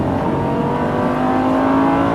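A Lamborghini LP570 Superleggera engine howls loud and close at full throttle, a continuous roar with a tone that slowly rises as it accelerates.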